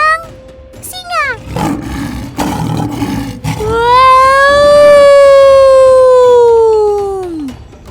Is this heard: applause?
no